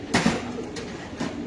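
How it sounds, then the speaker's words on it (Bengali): Pigeons at a loft in a Dhaka pigeon farm give a few soft, close coos in short bursts over a low hum of background noise. "এখানে আছে আরেক পেয়ার কবুতর"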